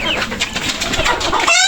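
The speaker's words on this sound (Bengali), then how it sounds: "এখানে আছে ব্রাহ্মণবাড়িয়ার বিখ্যাত সেই সরাইল মুরগি, ফাইটার মুরগি বলে আর কি।" Sarail fighter chickens and other birds on a farm make a continuous close chorus of clucks and calls, steady throughout with no talking.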